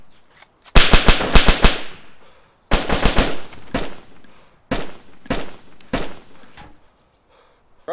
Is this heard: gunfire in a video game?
yes